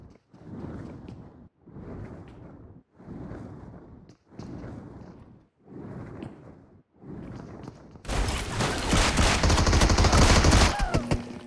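Gunfire from a video game: six evenly spaced heavy shots boom at a steady pace, followed by a loud sustained burst of rapid automatic fire.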